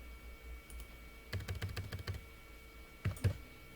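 Typing on a computer keyboard: a quick burst of clustered key clicks, then a pause and a couple more taps, close and fairly quiet.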